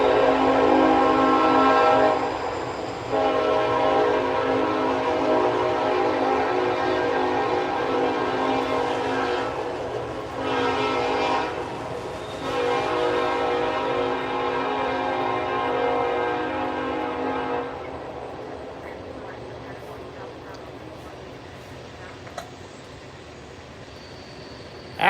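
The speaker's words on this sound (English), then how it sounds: "It's actually intermodal, not auto racks." An intermodal stack freight train rumbles past at night with a long, loud horn blast at the start that fades into steady rolling wheel and wagon noise.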